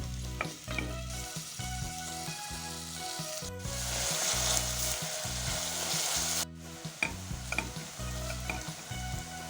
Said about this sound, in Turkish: zeytinyağıyla güzelce onları soteliyorum